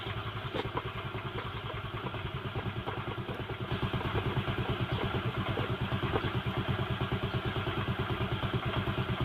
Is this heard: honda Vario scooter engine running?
yes